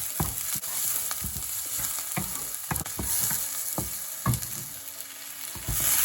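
Prawns with spring onion and chili sizzle and fry in a hot pan, with repeated scraping and tossing clatters from stirring over a steady crackling hiss, close and without talk.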